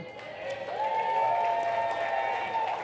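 Sustained audience applause and cheering at an indoor ski film event, a steady dense wash of clapping that holds at an even level throughout with some crowd voices mixed in.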